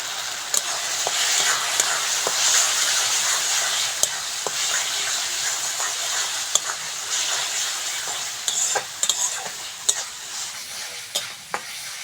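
Spices fry for a Bengali eggplant curry, sizzling steadily and loudly in the pan while a spoon stirs, with scattered sharp clicks and scrapes of the utensil throughout.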